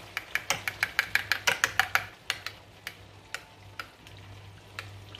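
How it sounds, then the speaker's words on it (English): Ground beef with sriracha being stirred in a hot pan, with a quick run of sharp ticking utensil scrapes and taps over a low steady sizzle, the strokes slowing and spacing out toward the end. "we're gonna go in there and give it a nice mix"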